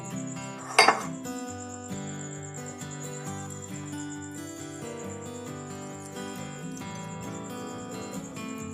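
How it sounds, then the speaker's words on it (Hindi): A single plate is set down on a kitchen counter with one sharp clink early on, followed by steady background music. "अब मैं एक और प्लेट रखती हूँ यहाँ पे"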